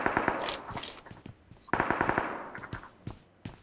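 Rapid automatic gunfire in the BGMI mobile battle royale game, fired at a bot in bursts of quick shots with short gaps, loud and close, and no speech.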